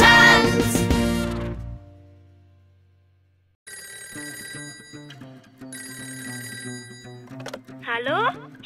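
In a German children's song, a bright electronic telephone bell rings in a rapid trill, then falls silent before cheerful voices and music pick up, with a cartoon-like sliding sound near the end.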